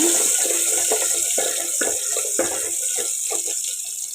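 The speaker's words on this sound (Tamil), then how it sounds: "சின்ன வெங்காயம் நல்லா பொரியட்டுங்க" Small shallots frying in hot oil with mustard seeds for a Tamil keerai kadaiyal, a steady loud sizzle with irregular crackles and pops throughout.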